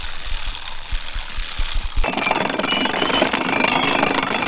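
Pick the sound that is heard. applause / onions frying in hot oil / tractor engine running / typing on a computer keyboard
tractor engine running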